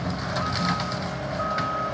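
A Bobcat skid-steer loader reverses while clearing woodland, sounding a steady electronic backup beep over a continuous rumble of heavy machinery.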